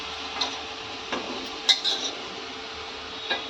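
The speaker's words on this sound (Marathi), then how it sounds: "आता वांगी आणि बटाटे घालते एका त्याच्यामध्ये आणि आता सगळं घालून मग एकदा ढवळायचं" A spoon stirring brinjal and potatoes in a cooking pan, several soft scrapes and light metallic clinks spaced out against a quiet kitchen background.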